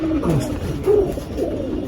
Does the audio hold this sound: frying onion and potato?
no